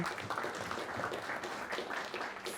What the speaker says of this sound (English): a round of applause for all of you for the work that you're doing